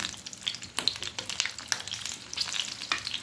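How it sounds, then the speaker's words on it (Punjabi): Green chillies frying in hot oil, giving a quiet continuous sizzle with scattered small pops and crackles, close but fairly faint, with no talking. "ਹੌਲੀ ਹੌਲੀ ਰੱਖਿਓ ਵੀ ਛਿੱਟੇ ਨਾ ਪੈਣ ਹਨਾ ਉੱਪਰ ਗਰਮ ਤੇਲ ਦੇ ਛਿੱਟੇ ਬਹੁਤ ਖਤਰਨਾਕ ਹੁੰਦੇ ਆ"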